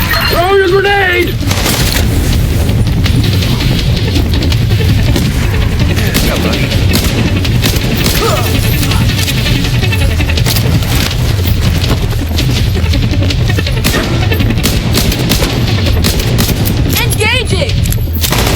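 Continuous heavy gunfire and explosive booms from a firefight in The Division 2, dense and loud throughout, with voices talking over the combat.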